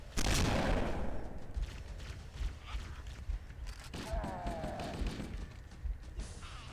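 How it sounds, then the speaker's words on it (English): Gunfire from Halo marines in a video game, opening with a loud blast followed by scattered rifle shots and impacts, mixed with game effects and a voice talking. "you guys can open fire as much as you want"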